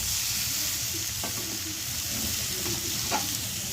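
Young jackfruit frying in a pan gives a steady, loud sizzle, with a few faint strokes of stirring heard close by and no voices.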